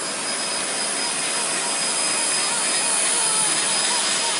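A Blade mCP X BL radio-controlled helicopter hovers close by on its first flight, its high rotor and motor whine loud and steady while someone talks over it.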